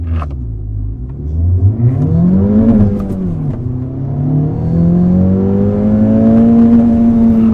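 An Acura Integra Type S pulls away from a launch, its engine rising steadily in pitch and loudness over several seconds as it accelerates close by, with no talking.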